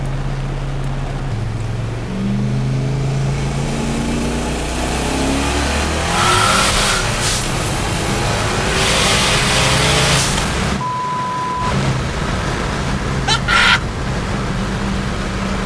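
A turbocharged car engine revs hard, climbing through the gears with a rising roar, then drops off briefly before picking up again with short bursts.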